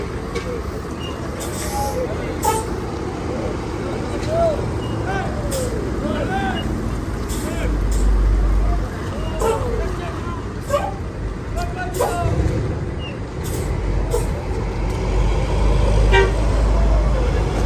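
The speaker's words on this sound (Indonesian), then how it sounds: "Banyak truk gandeng di sini." Heavy road traffic rumbles steadily with large trailer trucks passing at a rest stop on the Surabaya–Denpasar route, horns tooting and air brakes hissing, while people talk in the background.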